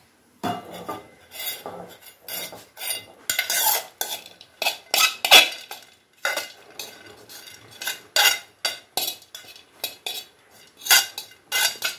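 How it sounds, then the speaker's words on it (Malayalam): A utensil stirs ghee-roasted coconut pieces into unniyappam batter, making repeated clattering scrapes and clinks against the bowl in irregular bursts with brief pauses, close and alone. "ഇനി ഇതിലേക്ക് നമ്മൾ വറുത്തെടുത്ത തേങ്ങ പീസ് ഇതിലേക്ക് ചേർക്കാം."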